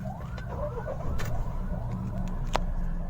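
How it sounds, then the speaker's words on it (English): A Mahindra Thar engine idles with a steady, low rumble that runs unbroken from start to finish, with faint higher tones over it. "So let me just turn on the engine."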